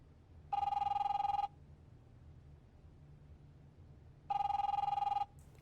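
Telephone ringing in The Wolf Among Us video game: two electronic rings, each about a second long, separated by a few seconds of quiet hiss, clear and fairly close.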